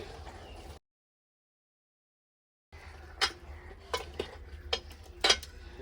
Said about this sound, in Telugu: చింతపండు పులుసు అలాగే చింతాకు కూడా వేసేసి బాగా ఒకసారి కలుపుకొని పెట్టుకోవాలండి